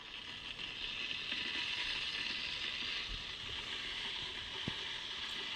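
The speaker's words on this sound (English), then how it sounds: "That is the sound of heating water" Water heating in a 1.7-liter electric variable-temperature kettle gives a steady, quiet hiss and faint rumble with a few small ticks, close but low in level and heard alone.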